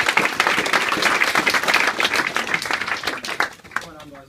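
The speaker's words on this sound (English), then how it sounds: "we'll give a big round of applause to Jordan" A university hall audience gives a sustained round of dense clapping at an event in Wolverhampton, loud and continuous before tapering off near the end.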